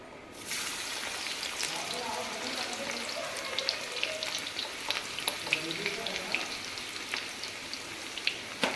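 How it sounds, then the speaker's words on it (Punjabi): Finely chopped garlic and ginger fry in hot oil with a steady, fairly loud sizzle and scattered sharp crackles and pops throughout. "ਉਧਰ ਆਪਣਾ ਤੇਲ ਗਰਮ ਹੋ ਚੁੱਕਿਆ ਹੈ ਹੁਣ ਆਪਾਂ ਇਹਦੇ ਵਿੱਚ ਪਾਣੇ ਆ ਲਸਣ ਤੇ ਅਦਰਕ"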